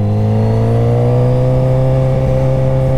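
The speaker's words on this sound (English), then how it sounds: "And it helps to engine brake as much as you can." A motorcycle engine braking while downshifting drones loud and close, a steady, strongly tonal engine note held throughout with only slight shifts in pitch.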